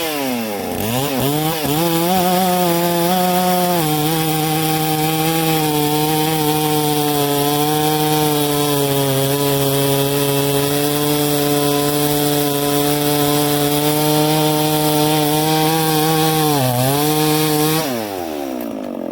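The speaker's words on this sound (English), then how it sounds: "So this will be the 872 run with the Oregon chain on it. Full comp, full chisel, brand new." A Stihl-class 872 chainsaw fitted with a brand-new, unfiled Oregon full-chisel, full-complement chain bites into wood, its engine holding a loud, steady high-rev drone for most of the cut before dropping back to idle near the end.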